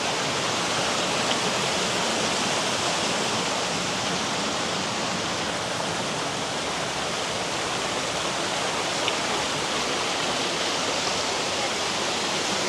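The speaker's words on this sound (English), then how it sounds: "It's kind of therapeutic to hear the sound of flowing water" Steady rushing water flows continuously near Chiang Rai, Thailand, dense and full like a small cascade, nearby and unbroken throughout.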